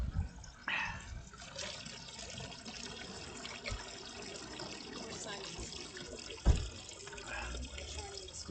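Tap water runs into a bottle with a steady trickling, filling gurgle, close and continuous, under a background of outdoor noise and movement.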